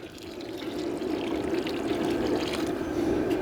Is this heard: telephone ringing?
no